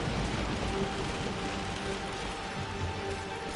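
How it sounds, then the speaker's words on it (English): Steady, dense rain in the video game Tomb Raider: Blood Ties, a constant close hiss of a relentless storm pattering on surfaces throughout, with no voices over it. "Man, the rain never stops."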